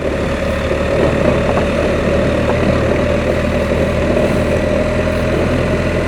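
BMW R1300 motorcycle ridden in second gear with the clutch out through a soft sand rut, a steady loud engine drone mixed with wind rumble and no pauses.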